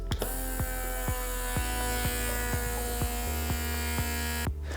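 Steady electric hum of a handheld vacuum pump sealing a glass meal-prep container, running continuously and close with a regular ticking pulse, then cutting off at the end.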